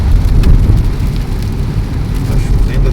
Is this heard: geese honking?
no